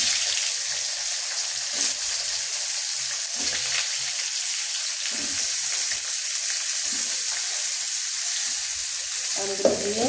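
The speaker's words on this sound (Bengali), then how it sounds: "আমগুলো দিয়ে সুন্দর করে নাড়াচাড়া করে নেব" Washed raw mango pieces stirred and fried in oil with panch phoron for a sweet, sour and spicy pickle, giving a steady close sizzle with faint scraping stirs throughout and no voices.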